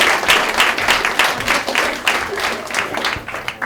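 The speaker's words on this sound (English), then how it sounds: "A round of applause for Liz, please" An audience at the MOEVEMENT Conference 2016 applauds a presenter, a continuous, fairly loud round of clapping from many hands with some individual claps standing out, sustained for several seconds.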